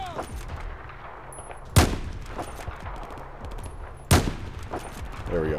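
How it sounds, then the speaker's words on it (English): Two loud, sharp gunshots in Battlefield 4, spaced a couple of seconds apart, ringing out over low battlefield ambience and a voice talking. "One more shot to him, he'll be dead."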